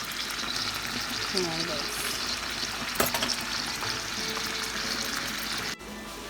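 Chicken frying with annatto in a pan gives a loud, steady sizzle with brief stirring scrapes and a clink, while a voice speaks briefly over it.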